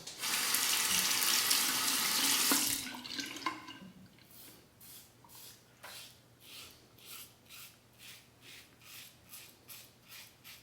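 A tap runs loudly at first while a safety razor with an Astra blade is rinsed, then cuts off, followed by soft rhythmic scraping strokes of shaving.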